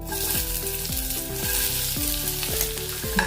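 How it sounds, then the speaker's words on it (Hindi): Onions hiss and sizzle steadily in hot oil in a kadhai, a loud continuous frying crackle with repeated rhythmic scraping strokes of a spoon against the pan throughout. "थोड़ा सा तेल गरम हो गया है। अभी इसमें हम प्याज डालेंगे।"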